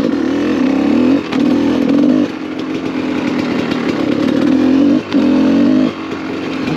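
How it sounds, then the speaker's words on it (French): A motorcycle riding on a wheel filled with tennis balls: a loud, steady engine drone with a few brief dips as the throttle eases and picks up again, with no talk over it. "je vais vous emmener avec moi pour une petite balade avec une roue pleine de balles de tennis"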